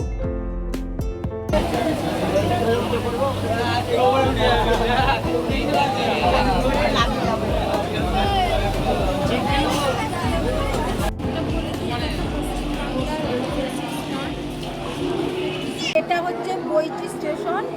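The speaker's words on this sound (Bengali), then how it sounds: "আমরা যখন গিয়েছিলাম ট্রেনে তখন তারকেশ্বরের পুণ্যার্থীদের ভিড় ছিল" A crowd of Tarakeswar pilgrims packs a Bardhaman-bound local train, a loud steady babble of many overlapping voices over a low rumble of the moving carriage.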